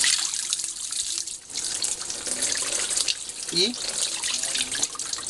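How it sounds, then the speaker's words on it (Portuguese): Tap water runs steadily into a sink as soap is rinsed off a vinyl record and off hands, a continuous close splashing hiss. A voice speaks briefly over it. "Agora, água corrente. Você vem, tira o sabão do disco,"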